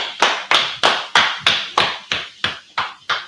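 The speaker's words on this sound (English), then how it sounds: "Clap it up." A class claps together in unison, about ten sharp, evenly spaced claps at roughly three per second, each a crisp near hit with a short decay, and nobody speaks.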